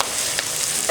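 Green onions fry in hot oil while being stirred, a dense, steady, loud sizzle crackling close by with faint scraping, no voices.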